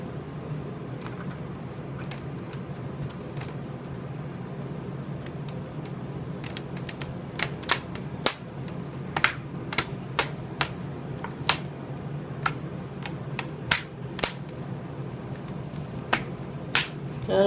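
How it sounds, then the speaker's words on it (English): Sharp, bright clicks as the plastic screen bezel of an Acer Aspire 4830T laptop is pressed and snapped back into place, a scattered run of close, crisp snaps over quiet room hum, most of them in the second half. "Just going to snap that back into place."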